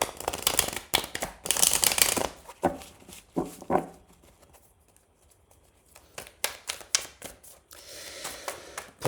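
Tarot cards riffle and slap in bursts of papery shuffling, with sharp taps as cards are drawn and laid down, close up and fairly loud between quieter pauses.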